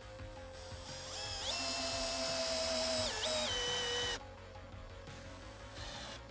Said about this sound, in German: Jetzt kann man auch schon den Stockschrauben eindrehen. Am besten mit einer starken Bohrmaschine oder einer Ratsche.